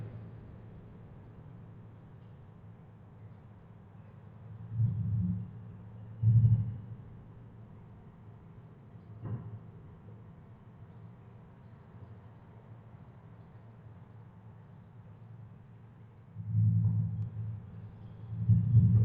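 A low Honda Shadow 750 Aero motorcycle engine rumble drones throughout in a parking garage, swelling in a few loud throaty bursts as the throttle opens, then settling back to a steady idle.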